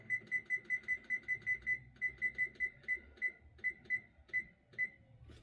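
An oven timer gives a run of short, bright, evenly spaced electronic beeps that pause briefly and resume with a wider spacing, close and clear above a faint kitchen background with no talk.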